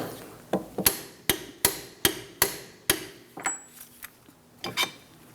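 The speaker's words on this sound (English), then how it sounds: "Now I'll torque that to 118 foot-pounds." A torque wrench tightens a steering knuckle bolt on a 2004-2008 Pontiac Grand Prix, a run of sharp metallic clicks at a fairly even pace, close and crisp, ending in a few softer knocks.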